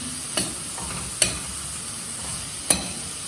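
Bhaja masala being stirred and dry-roasted in a pan, a soft steady rasp broken by three sharp scraping clicks of the spoon against the metal, with no voices.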